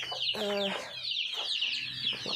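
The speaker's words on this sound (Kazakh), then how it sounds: "мына жақта тауығым жұмыртқаласып жатыр" Laying hens cluck nearby in a short burst of several calls, close and fairly clear against faint background noise.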